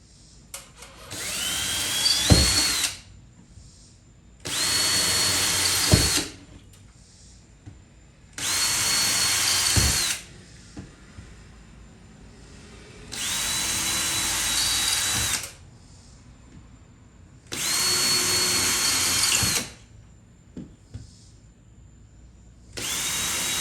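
A power drill whirs in five separate bursts of a few seconds each, with short quiet pauses between them, loud and close.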